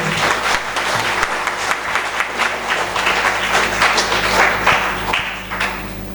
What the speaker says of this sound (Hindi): मैं चाहूँगा इस प्लान के लिए एक बार जोरदार तालियां हो जाए